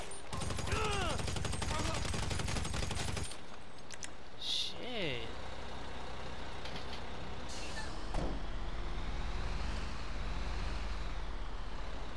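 Rapid gunfire rattles in GTA 5 Online, a dense burst of shots at the start followed by further sporadic firing under constant engine rumble and game noise.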